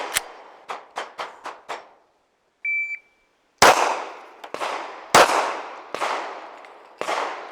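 Pistol shots in a timed strong-hand then weak-hand drill: a quick string of five sharp reports, a brief electronic timer beep, then five louder, more widely spaced shots ringing out close by.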